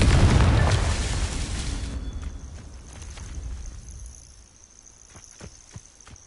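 A Confringo fire spell from Hogwarts Legacy detonates loudly at the start with a broad explosive burst, then rumbles and crackles away into a few faint pops and ticks.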